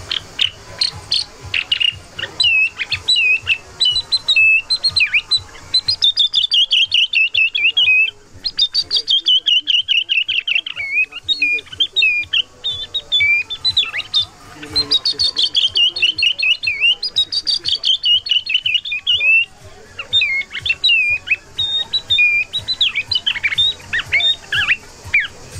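A man whistles an imitation of a redwing thrush at a hunting festival in Provence, long fast runs of high chirping, warbling notes, loud and close, with brief breaks.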